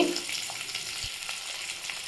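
Steady hiss of small shallots frying in hot oil, a continuous sizzle with faint crackles and a soft stir, no voices.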